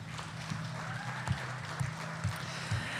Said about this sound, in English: Give Brenda a round of applause.